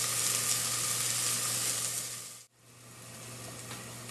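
Onions for risotto soften in a hot pan with a steady, faint sizzle, briefly cut out near the middle before resuming, no talk.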